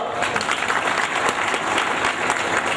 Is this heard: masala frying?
no